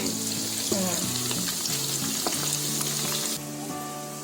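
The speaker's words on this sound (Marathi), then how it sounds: "असा कलर येईपर्यंत भाजायचे." Potato vadas for a fasting-day aloo bonda chaat deep fry in hot oil, a loud, steady, close sizzle running throughout with some music tones in the background.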